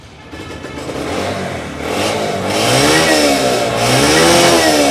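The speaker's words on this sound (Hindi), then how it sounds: "फौरी सेल्फ स्टार्ट से बाइक हुई स्टार्ट" A motorcycle engine starts up close and revs, the pitch climbing and dipping in loud waves as the throttle opens and eases.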